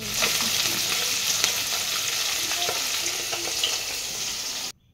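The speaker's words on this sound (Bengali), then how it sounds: "মাছ ধুয়ে নিয়ে এসে ভাজাও বসিয়ে দিয়েছি।" Washed fish fries in oil in a wok, giving a constant close sizzle with small pops and crackles that stops suddenly at the end.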